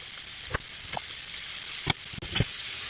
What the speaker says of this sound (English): Our pan's hot. We're going to cook our bacon.